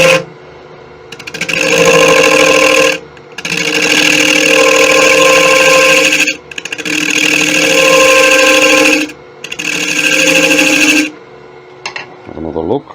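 A wood lathe turns the rim of a beech and bubinga yarn bowl, its steady motor whine running in long loud bursts separated by short pauses.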